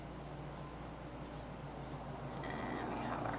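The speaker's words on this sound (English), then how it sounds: "So I just kind of sketched a quick circle or oval" A pencil sketches a quick circle or oval on paper as a fox drawing begins, a soft continuous scratchy rasp that runs steadily throughout under a low background hum.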